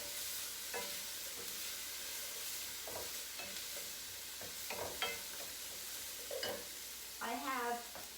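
Onions cook down in a pan for a mushroom risotto, a faint steady sizzle with occasional spoon scrapes and stirring knocks, and a brief voice near the end.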